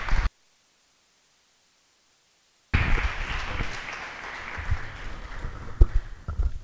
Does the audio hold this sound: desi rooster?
no